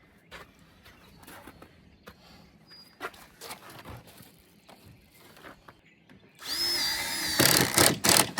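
A power drill drives screws into an off-grid cabin's wall, with quiet handling clatter and faint birds before a loud whining burst of drilling near the end, close and without talk.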